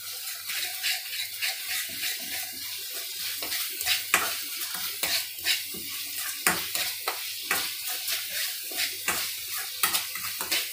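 A spoon scrapes and stirs through a pan as red chili sizzles in oil for a white chickpea curry, with rhythmic clinks and scrapes over a soft, constant frying hiss.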